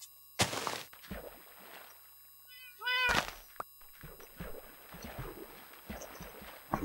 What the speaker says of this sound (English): And we need to name the cat